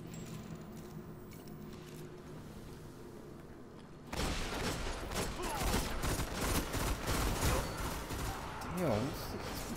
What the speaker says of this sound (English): this is really shooting that explosion bullets